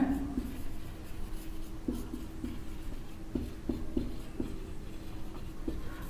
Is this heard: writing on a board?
yes